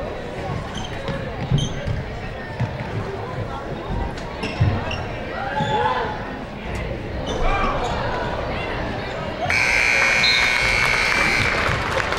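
A scoreboard buzzer sounds near the end, a loud sustained electronic tone ending the third quarter of a high school girls basketball game between Minneapolis, Kansas and Beloit, over gym crowd noise and a commentator's voice.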